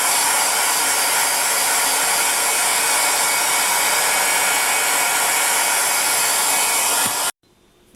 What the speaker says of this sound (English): I'm going to be using my heat gun on the lowest heat setting